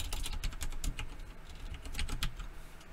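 Rapid, uneven keystrokes on a computer keyboard while code for an RPG game is typed, a close and steady clatter of many key presses filling the stretch with no talking.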